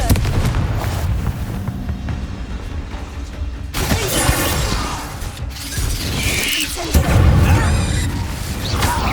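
A Bombarda explosion spell is cast in the video game Hogwarts Legacy, sending out loud bursts of blasting and shattering debris. The layered crashes hit hard, with a sharp surge partway through and another near the end.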